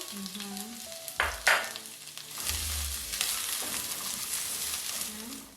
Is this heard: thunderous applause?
no